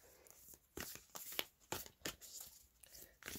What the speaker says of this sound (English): Not the best shuffle in the world. They're quite hard to handle, these.